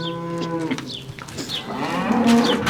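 Cattle being loaded onto a river boat moo loudly and close by, one long drawn-out call followed by further lowing, with no talk over them.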